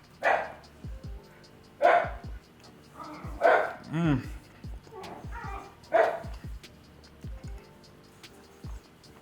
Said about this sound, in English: Sorry if you hear some dogs in the background.